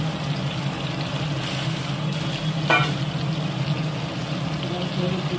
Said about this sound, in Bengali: দিয়ে খুন্তি দিয়ে নাড়ানো হচ্ছে।